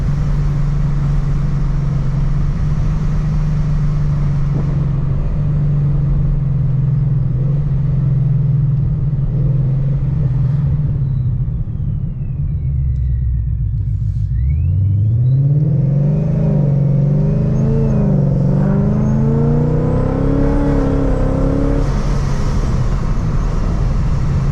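A 700 hp supercharged Ford Mustang with a 10-speed transmission and an 8-pound pulley drones steadily at speed from inside the car, dips briefly as it shifts, then climbs again in a rising, whining rev that grows louder toward the end.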